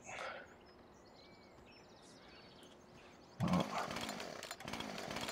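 A chainsaw in the farming video game Farming Simulator 17 starts up abruptly after a few seconds of quiet outdoor ambience with birds, then runs loudly and steadily.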